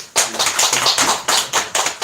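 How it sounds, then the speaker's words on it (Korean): Welcoming applause from a small church congregation, a few people clapping close by in loose, fairly loud claps with short gaps. "우리 환영의 박수 한번 먼저"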